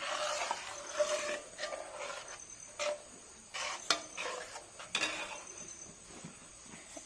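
A spoon stirs and scrapes through ground neelamari and aloe vera leaf paste mixed into oil for a homemade herbal hair oil, giving irregular close rasping strokes with short gaps between them and no talking.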